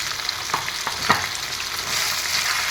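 Skin-on chicken curry seasoned with salt, turmeric, cumin and coriander powder sizzles steadily in a pan, with a few soft scrapes and clinks from stirring over the close, continuous frying hiss.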